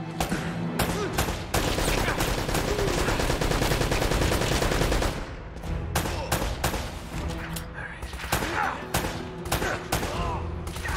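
Gunfire in Uncharted: Drake's Fortune, a dense burst of rapid shots for about five seconds, then sparser separate blasts, loud and close with some background voices.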